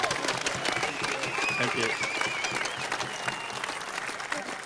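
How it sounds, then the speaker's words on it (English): An audience at a presentation of keys to the City of Canberra applauds Aron Baynes and Patty Mills, a steady crowd of clapping hands with a brief spoken word near the end. "Ladies and gentlemen, a big round of applause for Aron Baynes and Paddy Mills."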